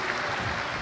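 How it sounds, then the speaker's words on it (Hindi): Brief burst of crowd clapping at a Shiv Mahapuran religious discourse gathering in Sehore, even and sustained, with no talk over it. "जोरदार ताली बजाकर स्वागत, वंदन, अभिनंदन"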